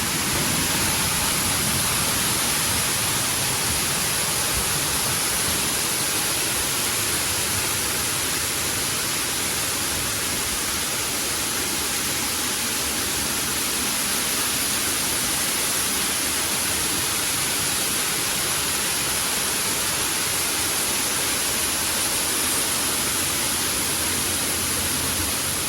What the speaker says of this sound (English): that sound there is the sound of the waterfall being generated